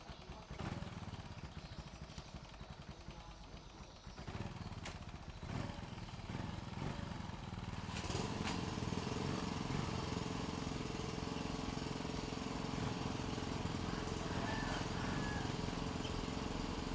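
Engine of a Yamaha Jupiter MX motorcycle held in gear with a slipping clutch, revving in a continuous strained drone that grows louder and rougher partway through, close to the microphone.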